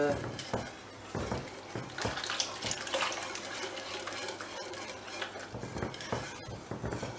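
Flour being stirred into melted butter in a pot for a carrot and carrot-top soup, giving repeated scraping and clinking strokes of a utensil against the pot at close range, with no talk.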